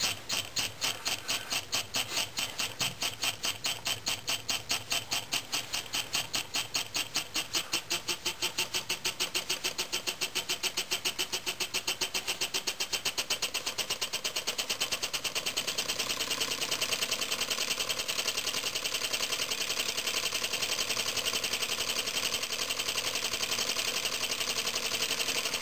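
A homemade first engine runs on low-pressure compressed air, ticking in a fast, steady mechanical rhythm that speeds up and grows denser after the opening seconds, then holds a continuous rapid clatter, close and alone.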